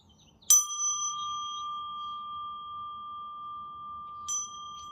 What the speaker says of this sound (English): After I let the gong go, it hits the bell itself.